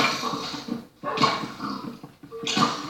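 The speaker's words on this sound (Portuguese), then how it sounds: "Ó, já tem lobo." A wolf in Minecraft on Xbox 360 gives three whiny, yelping dog-like cries in short bursts separated by brief pauses, fairly close and clear.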